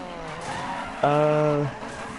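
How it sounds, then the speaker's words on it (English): Tires squeal in a short tonal screech as a car slides through a drift on a wet road in Need for Speed, rising over a steady engine drone and lasting under a second. "I'm actually doing pretty decent drifting this right now."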